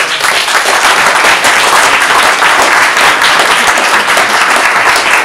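A large audience at a poetry award ceremony applauds loudly and steadily, a dense, continuous wash of clapping close up with no pause.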